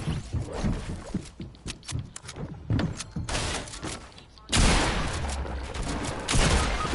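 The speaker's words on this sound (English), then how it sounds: "I'm shooting the dark bomber down." Rapid bursts of video game gunfire shooting down a dark bomber in a battle-royale solos match, sharp repeated shots cutting through dense game noise, then a louder, steadier roar of action.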